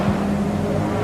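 Stock car engines roar past on an oval track at Ipswich, a loud, close, rough engine drone with a brief pitch sweep as a car goes by.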